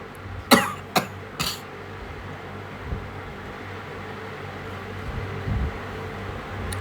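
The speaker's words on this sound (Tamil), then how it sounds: "தொடர்ந்து பேசுகிறதுனால இருமல் வருது" Three sharp coughs in quick succession, close and loud, followed by quiet room noise.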